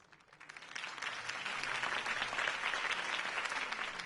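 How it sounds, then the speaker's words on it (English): Applause from a crowd following a political campaign speech by Harvey Dent in a Batman video game, rising over the first second into steady, dense clapping that holds loud and even to the end. "If only Mr. Wayne, my campaign's largest backer, could have heard that applause"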